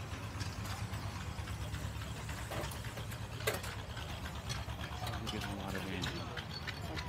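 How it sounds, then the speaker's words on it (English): A one-cylinder British diesel tractor engine runs steadily at an outdoor show, a low continuous thrum with a rapid chugging pulse, with crowd noise and people talking nearby over it. "One cylinder diesel tractor."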